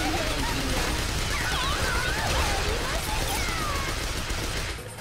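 Rapid gunfire from the video game School Girl Zombie Hunter rattles on in loud sustained bursts, with chaotic game effects and a voice talking over it before it fades near the end.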